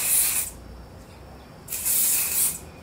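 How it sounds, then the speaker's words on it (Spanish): Kerashine argan oil silica hair spray hisses in two bursts, each about half a second to a second long, with a short quiet pause between them, close and fairly loud. "esta sílica en spray de la marca Kerashine."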